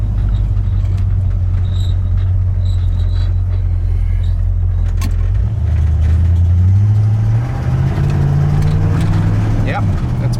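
Junkyard truck engine idling steadily after a carburetor adjustment, a loud low drone close by that rises briefly as it revs up partway through, with a voice talking over it.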